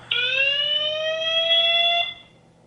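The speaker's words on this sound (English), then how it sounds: "And then this is like a siren." Siren alarm tone from a Conico wireless IP camera sounds as one loud, close electronic wail of about two seconds, sweeping slightly in pitch before cutting off, with no talking.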